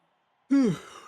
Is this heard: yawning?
yes